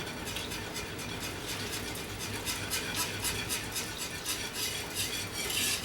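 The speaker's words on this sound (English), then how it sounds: "As you add it, you're gonna slowly add and whisk at the same time." Roast beef gravy being whisked in a pot as thickener is slowly added, a steady rapid clatter of a metal whisk against the pan running throughout, close and fairly loud with no talking.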